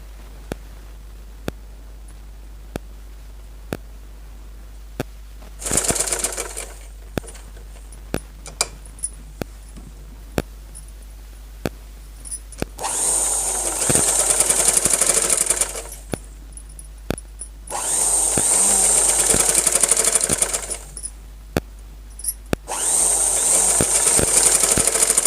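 A sewing machine stitches a long frock in short runs: bursts of fast, whirring stitching alternate with quiet pauses punctuated by sharp clicks and taps as the fabric is repositioned.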